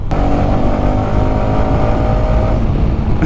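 A 2024 Hero XMR 210 motorcycle pulls hard from third gear, its engine a steady loud roar close to the rider, with a tone that holds and rises before easing near the end.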